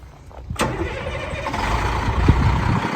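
A 250 horsepower Cat C7 turbo diesel in a 2007 Freightliner M2 bucket truck cranks and fires up, settling quickly into a steady, rumbling idle heard up close.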